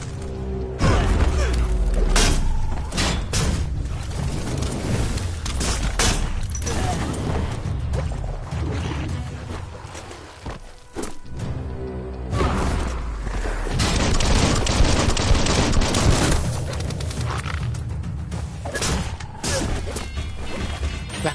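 A bomb lobber firing in a video game, with repeated heavy crashes, whacks and booming impacts spread across the stretch, loud and dense, interrupted by a brief lull in the middle.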